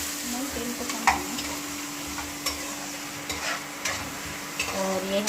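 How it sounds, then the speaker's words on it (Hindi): Onions brown in a little oil in a pan, sizzling softly and steadily, with occasional clinks and scrapes of stirring close by. "और इसको भी ब्राउन होने देंगे, प्याज को भी, फिर डाल देंगे हम कढ़ी।"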